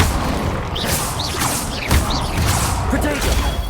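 Confringo fire spell cast in Hogwarts Legacy, a burst of whooshing and crashing impacts with clanking mechanical noise, loud and busy over a few seconds, with no speech.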